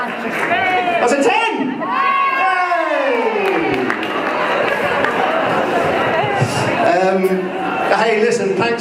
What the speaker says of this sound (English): thanks so much for that rousing round of applause